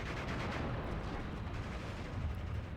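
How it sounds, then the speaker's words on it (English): Firing from an 82mm mortar in the Steel Division 2 strategy game: a steady, faint wash of distant artillery and gunfire crackle with no clear separate hits, heard alone. "I've got my 82mm mortar laying down some fire onto here"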